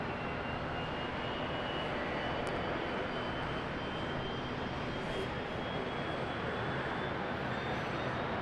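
Airliner taking off at Brisbane Airport, heard as a steady, distant broadband engine roar holding evenly throughout, fairly faint and without talk.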